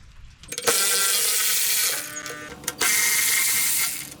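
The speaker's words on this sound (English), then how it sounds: "So take all three of those screws out and we'll remove the tank" A ratchet wrench backs out the fuel tank bolts on a 2023 BMW S1000RR motorcycle, giving two close, loud bursts of rapid clicking separated by a short pause.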